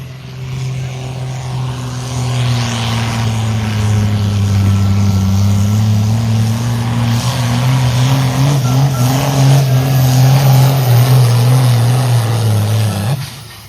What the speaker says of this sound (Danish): der er i hvert fald endnu en traktor på vej ind på banen på bane 1